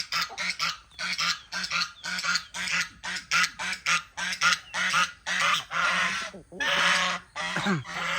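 Chickens and other poultry being fed in the morning, with loud, dense clucking and honking calls in quick repeated bursts close by, broken by brief pauses, and a person's voice now and then among the birds.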